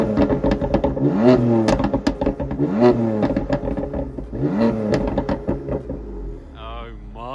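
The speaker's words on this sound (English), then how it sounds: "Okay, Morpheus, what does a 3-litre straight 6 twin turbo S55 sound like?" A 2015 BMW M4 Competition with a 3-litre straight-six twin-turbo S55 engine revs repeatedly in rising and falling blips, close and loud, each rev clattering slightly as it drops back to idle.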